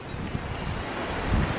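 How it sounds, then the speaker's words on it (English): Steady outdoor wind blowing across the microphone, a broad continuous rush with low buffeting gusts, fairly close and moderately loud, with no voices. "Although it is quite windy"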